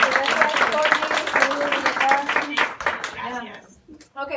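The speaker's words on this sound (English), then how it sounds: "So can we please give an applause?" Brief clapping from a small audience after a talk on bilingual employees in Kansas City, mixed with overlapping chatter and thanks, fading into near silence before a voice returns.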